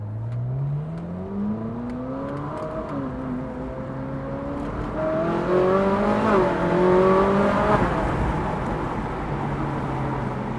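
Ferrari car driving with a steady engine drone whose pitch climbs and falls through gear changes, revving up near the middle, heard from inside at close range with no talk.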